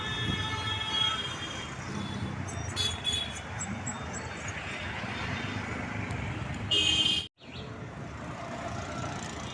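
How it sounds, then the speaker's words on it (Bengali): A metro train rushes past nearby at Kshudiram metro station in Kolkata in a steady roaring wash of wheel noise, with a brief cut in the sound near the end. "দেখো ওই মেট্রো রেল যাচ্ছে"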